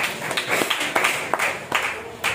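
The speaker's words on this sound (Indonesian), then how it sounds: "Tepuk tangan bagi kita." A class of students applauding during a lesson on integrity values, a burst of hand claps with several rhythmic swells, moderately close in a classroom.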